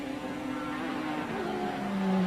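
IMSA Camel GTP prototype race cars at Lime Rock in 1992 drone past in a steady engine roar, one car's pitch sliding lower as it goes by, with traffic noise continuous throughout.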